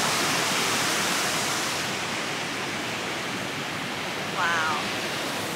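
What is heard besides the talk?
roar of water near Yosemite Mist Trail waterfall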